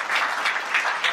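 A short, close burst of audience clapping at an event, dense and even with no talking over it.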